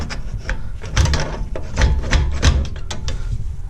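An old wheel bearing seal being worked out by hand with a pry tool, a close series of irregular scraping clicks and knocks against metal, with no voices.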